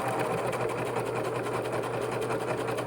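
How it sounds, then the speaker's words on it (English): Serger overlock machine running at speed along a seam on a cut-on fly, a loud close steady buzzing whir with a rapid regular needle pulse throughout, no voices. "Now, serging this inside corner really sucks."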